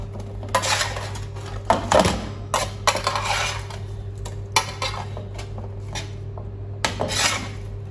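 Roasted vegetables are stirred and turned in a metal roasting pan, giving irregular scraping clatters and clinks of a utensil against the pan over a low steady hum.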